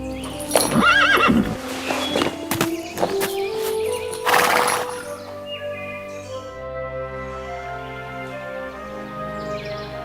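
A storybook horse whinnies loudly and its hooves clip-clop in a Sleeping Beauty forest scene, followed by soft sustained orchestral tones as the neighing fades.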